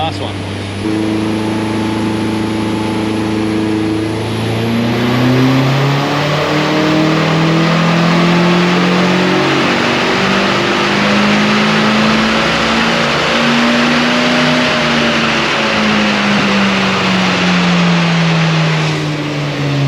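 Nissan SR20 N14 engine revving hard on a dynamometer, pitch climbing steadily through a long pull and dropping back, loud and close throughout with a short lift around five seconds, a voice briefly audible over it.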